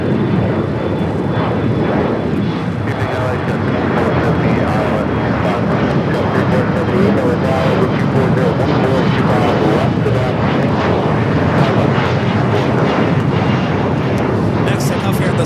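An airliner arriving from Paris at Los Angeles LAX roars loudly and steadily for the whole stretch, a broad, rumbling jet noise close by, while someone narrates over it.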